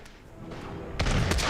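Gunfire in the video game Totally Accurate Battle Simulator, a short burst of dense booming shots that grows louder and heavier partway through, with no talk over it.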